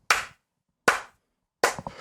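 Three slow, deliberate hand claps ring out, spaced nearly a second apart, each sharp, close and crisp, with a faint murmur after the last one.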